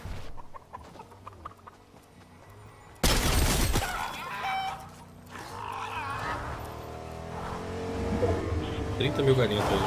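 A car engine revs and drives in Fortnite, quiet at first and then a loud burst of motor noise from about three seconds that keeps going under players talking.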